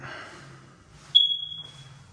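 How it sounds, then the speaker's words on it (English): A smoke detector in an unfinished new-build home in Wesley Chapel, Florida gives a single sharp, high electronic low-battery chirp that trails off, heard alone in a quiet, empty room after faint movement. "Clearly there's some type of power because a smoke detector battery is going off."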